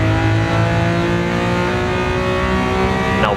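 A Lamborghini Countach 500S, the Walter Wolf Special, pulls hard in second gear on a racing circuit, its engine loud and close with a dense, continuous roar that builds steadily and rises in pitch near the end.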